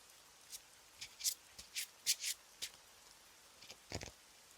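Tarot cards shuffled by hand during a reading, a string of quiet, crisp riffling bursts of uneven length with short pauses between them, close by and alone without talk.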